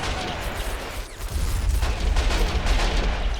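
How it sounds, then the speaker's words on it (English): An anti-tank gun fires in the war video game Men of War: Assault Squad 2, with rumbling booms and crackling battle noise rolling on continuously. "Anti-tank gun is still alive though, getting some fire out."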